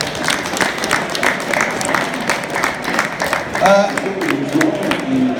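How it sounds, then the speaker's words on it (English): Audience applause at a live stand event, steady and fairly loud clapping from a crowd that runs throughout, with voices and cheering mixed in. "Give a round of applause, everybody."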